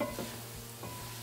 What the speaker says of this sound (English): I'll let this little spice mix coat all the potatoes and let it just kind of fry in the juiciness of